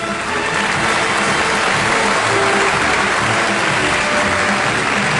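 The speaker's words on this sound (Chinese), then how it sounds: "我们再次用掌声表达我们的敬意" A large audience claps in loud, sustained applause that holds steady from start to finish, at an awards gala for a Suzhou Pingtan young performers' contest, honoring veteran artists.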